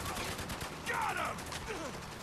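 Rapid gunfire in the shooter Spec Ops: The Line, a dense continuous crackle of overlapping shots with voices briefly speaking over it.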